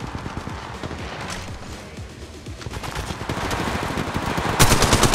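Rapid automatic gunfire from a shooter video game, bursts of sharp shots rattling continuously and growing louder toward the end, with a heavy volley in the final half second.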